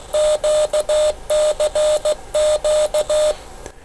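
Morse code sent with a portable pressure paddle, played as a steady single-pitch tone through a small radio speaker with raspy, thin audio; quick rhythmic runs of dits and dahs, loud and close, with no talking.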